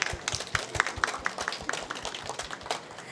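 A small crowd at a startup pitch event in southern Taiwan claps to greet guests, with fairly loose, steady claps that carry on throughout at moderate loudness.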